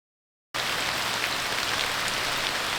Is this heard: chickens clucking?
no